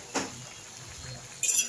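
A cooking pot is covered with its lid, giving a short metallic clink followed by a second brighter clatter about a second later, close and fairly quiet.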